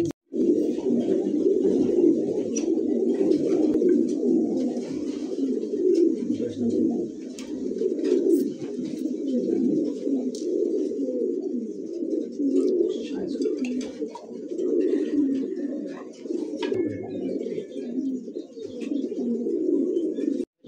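Toy Lahori pigeons cooing steadily for the whole stretch, a dense, continuous murmur of overlapping coos from several birds close by, with faint higher chirps over the top.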